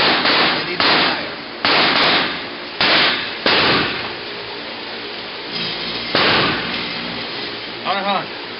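Gunfire at an indoor shooting range: about five loud, sharp shots spaced irregularly, each with a booming reverberant tail in the enclosed room, and a brief faint voice near the end.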